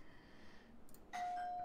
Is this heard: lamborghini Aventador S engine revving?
no